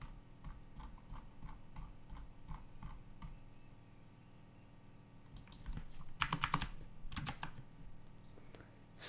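Typing code on a computer keyboard in a React web development session, with steady soft key clicks and a louder burst of rapid keystrokes near the end, no talking.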